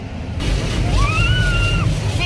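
Water spraying onto a car inside an automatic car wash, a steady broadband rush and splatter heard from within the vehicle, with a faint whining tone rising partway through and people talking quietly over it.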